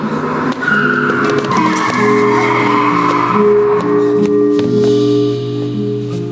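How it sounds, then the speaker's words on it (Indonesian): A car's tires skid and squeal as the brakes are applied, a loud sustained screech with engine tones lasting several seconds before easing off. "Aku putuskan untuk menginjak rem perlahan-lahan agar menghentikan mobil. Sampai roda mobilku berbunyi."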